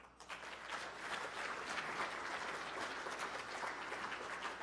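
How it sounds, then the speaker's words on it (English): Sustained applause from an audience at an MBA executive leadership talk, dense steady clapping at moderate distance that carries evenly throughout with no voices. "One more round of applause."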